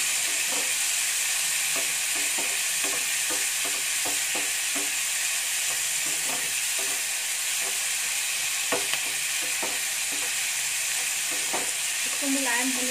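Whole red chillies fry in a kadai for kadai paneer gravy, giving a steady bright sizzle under repeated soft clicks and pops from stirring, with a faint voice in the background.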